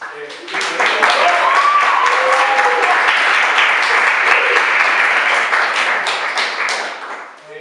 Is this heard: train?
no